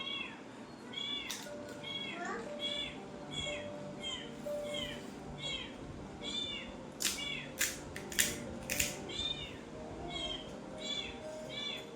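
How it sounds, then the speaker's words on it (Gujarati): A cat meows repeatedly in soft, drawn-out calls, with a few sharp clicks and quiet background noise. "બિલાડી"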